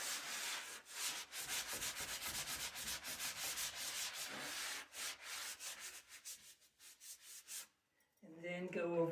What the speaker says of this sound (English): You can use your wet sanding sponge. Just go over them lightly, just smooth them out.